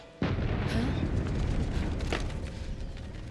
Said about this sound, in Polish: Ten wybuch był jeszcze potężniejszy od pierwszego.